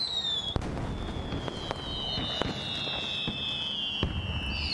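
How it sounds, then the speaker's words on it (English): The 2017 Ford fireworks over Detroit pop and crackle with a series of sharp bursts at irregular intervals, shrill whistling rockets rising between them, under a steady crowd-and-air background. "It is the 2017 Ford fireworks."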